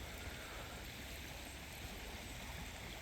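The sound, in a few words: flooding creek water flowing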